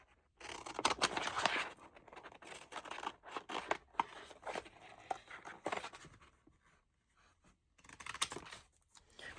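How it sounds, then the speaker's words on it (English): Close, crisp snipping and scraping of paper being cut in irregular bursts, with brief pauses between cuts. "scissors and cut the designer."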